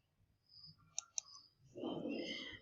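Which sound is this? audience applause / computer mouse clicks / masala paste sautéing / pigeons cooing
computer mouse clicks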